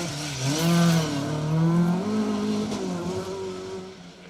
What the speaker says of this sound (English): Bit of tyre squeal there